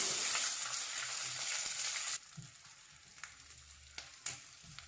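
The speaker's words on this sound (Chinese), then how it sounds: "再下入五花肉，翻炒均匀至上色" Pork belly stir-fried with rock sugar in oil in a clay pot: a dense, loud sizzle for the first two seconds, then dropping to a quieter crackle with occasional scraping stirs and clinks.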